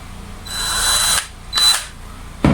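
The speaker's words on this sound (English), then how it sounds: "here we have our drilling machine" A battery-powered drilling machine whirs in two loud bursts, the first longer and the second shorter, with a brief clunk at the end and no talk.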